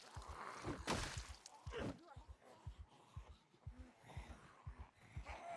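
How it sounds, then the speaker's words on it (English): Video game heartbeat effect, a steady run of soft, thumping low double beats repeating about twice a second, with a faint voice murmuring underneath. "The heartbeat."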